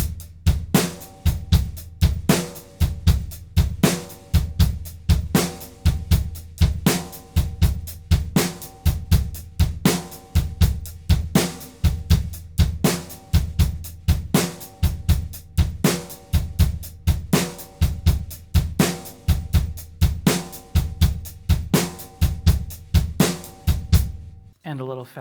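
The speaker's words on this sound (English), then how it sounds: "It's going to be the bass drum on all the notes except 2 and 4 when it's the snare drum." Drum set playing a triplet-feel beat, bass drum on most notes and snare on beats 2 and 4, in a steady, even repeating pattern that runs loud and close for about 24 seconds, then stops.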